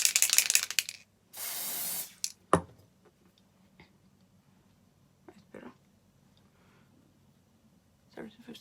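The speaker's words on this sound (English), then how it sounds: "It's nice and cold and it comes out because it is in a spray can." A spray can gives a short close hiss of about half a second. Clicks, handling taps and soft rustles of the can and skin surround it, and a brief loud burst comes near the start.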